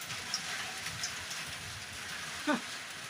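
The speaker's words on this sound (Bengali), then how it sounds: "দেখো না বৃষ্টি হচ্ছে, দেখতে পাবে না অন্ধকারে" Rain falls steadily outside at night, a soft, even patter at low volume, with a brief high chirp-like sound breaking through once near the end.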